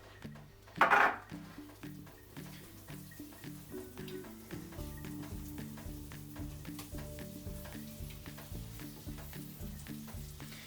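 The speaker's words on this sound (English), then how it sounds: "Into your pan we're going to go 25 grams of butter." Butter hitting a hot pan for samphire scallops, a loud burst of sizzle at first that settles into a steady crackle under background music.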